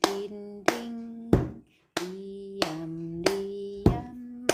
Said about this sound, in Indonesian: Kita menggunakan bunyi-bunyiannya pukul meja dan tepuk tangan.